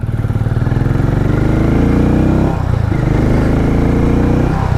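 A Harley-Davidson X440 motorcycle pulls along with a loud, close, pulsing single-cylinder thump, dipping briefly as the throttle eases before the engine picks up again, with no talk.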